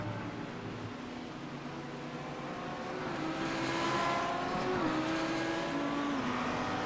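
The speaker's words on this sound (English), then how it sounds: "There we see that BMW coming out in 24th after their pit stop." A BMW race car in the iRacing video game pulls out of the pits during a Blancpain Endurance Series round at Silverstone, its engine droning steadily and rising in pitch as it accelerates, with no voices.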